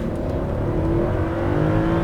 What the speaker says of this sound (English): let's launch the S8 to see how quick it is from 0 to 60 miles an hour